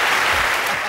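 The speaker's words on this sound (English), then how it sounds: "Thank Al Murray, give him a round of applause" Audience applause on a stand-up comedy panel show, a brief wash of dense clapping, loud and steady throughout.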